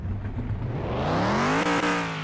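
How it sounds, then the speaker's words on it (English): In a video game, the V8 of a modded 40th Anniversary Mustang revs up hard. Its engine note climbs steadily in pitch over a couple of seconds, loud and close, with no voices. "Let's see what this lovely V8 sounds like."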